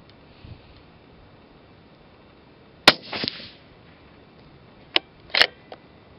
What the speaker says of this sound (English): next round we're going to do 168 grain supersonic suppressed